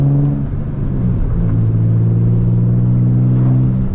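A 2005 Infiniti G35 with a six-speed manual gearbox idles with a steady, close, low rumble that holds at an even level throughout, with no voices over it.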